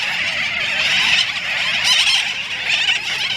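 A steady, loud din of overlapping shrill cries rises from a colony of seabirds nesting on bare ground beside their eggs, a continuous raucous chorus with no pause.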